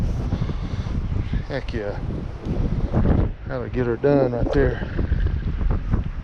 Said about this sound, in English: Freaking wind, man, it's brutal.